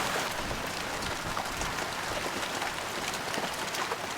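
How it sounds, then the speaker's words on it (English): Steady rain patters on a boat's teak deck, a dense even hiss of drops with no voices, close and constant throughout. "Having rain on this boat"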